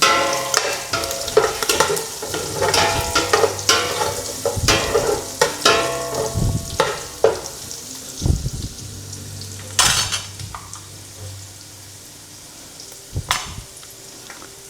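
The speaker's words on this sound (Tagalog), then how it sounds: "Then mix lang natin siya para masute" Ginger and pork stir-frying in a pan, with repeated sharp scrapes and clinks of a utensil against the metal over a steady sizzle, up close and fairly loud, with no speech.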